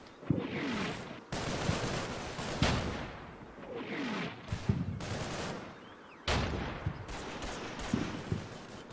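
Gunfire in the video game Combat Mission: Battle for Normandy, with repeated sharp shots and bursts that crack out at irregular intervals over a dense, continuous roar of battle.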